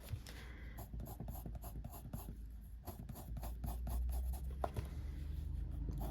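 A sharp coloured pencil colours on paper up close, with rapid repeated scratchy strokes in bursts and brief pauses between them.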